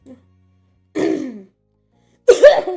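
Two separate coughs, close and loud, the second harsher and more forceful, with silence between them.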